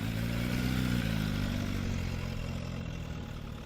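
An Aprilia RSV4 superbike engine rumbles steadily and loud, a deep continuous drone with no talk, holding constant and easing slightly toward the end.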